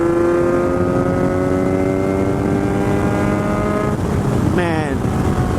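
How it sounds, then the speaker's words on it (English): A 2019 Kawasaki Z900 motorcycle engine brakes, its loud steady drone sliding slowly downward in pitch over strong wind rush, with a quick rev blip near the end. "Engine braking on this bike is spectacular."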